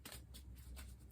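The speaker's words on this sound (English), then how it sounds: "One more shuffle this way." Tarot cards are shuffled by hand in quiet, soft riffling bursts that repeat roughly every few tenths of a second, close and faint, with no voices.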